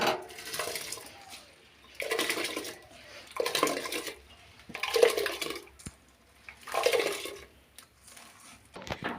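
Washed rice and lentils, mixed together, are tipped into a pot of heating water for Bengali khichuri, making several rushing, splashy bursts spaced a second or two apart, close and moderately loud.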